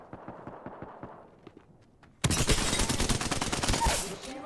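Apex Legends gunfire erupts abruptly as a dense, loud burst of rapid shots, following quieter scattered footsteps and distant pops, with a faint voice in the mix.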